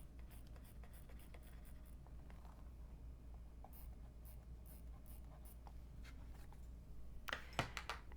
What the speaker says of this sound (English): I'm going to be using my Clover Choco to mark that 1 inch marking.